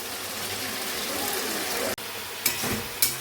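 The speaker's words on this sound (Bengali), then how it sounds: "তারপরে আলু দিয়ে ভালো করে আমি কষাতে থাকি" Potatoes frying in a curry base as they are stirred, with a continuous close sizzle and a few sharp scrapes of the spatula near the end.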